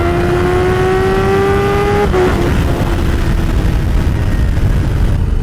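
Sport motorcycle, a Kawasaki Ninja H2 or Suzuki Hayabusa, accelerating hard with a loud rising engine whine for two seconds, then a gear shift and roaring wind rush as speed builds.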